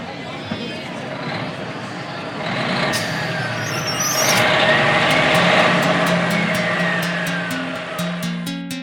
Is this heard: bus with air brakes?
yes